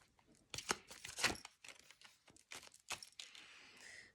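A Hermetic Tarot deck being shuffled by hand, with a run of crisp papery riffles and snaps at close range, some sharper bursts in the middle and a softer rustle trailing off at the end.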